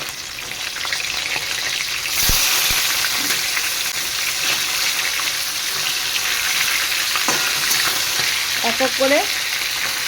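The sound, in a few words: fish pieces frying in oil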